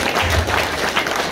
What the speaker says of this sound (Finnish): aplodit Jarkolle vielä.